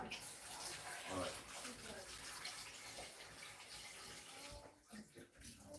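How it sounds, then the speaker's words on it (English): Water runs steadily into a cooking pan to cover pork belly pieces, a continuous splashing pour heard close up that tapers off near the end, with no talk over it. "Just enough water to cover the meat."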